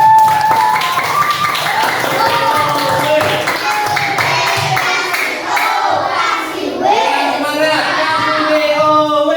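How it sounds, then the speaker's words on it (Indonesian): A classroom group claps and cheers for a presenting group during a coaching session, a dense, lively burst of hand claps and excited voices filling the whole stretch at close range. "Kasih tepuk tangan buat"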